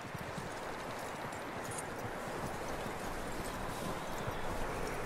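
Horse hooves clop steadily in Red Dead Redemption 2, a continuous rhythmic patter under a dense, even wash of game ambience in a snowy setting, with no speech.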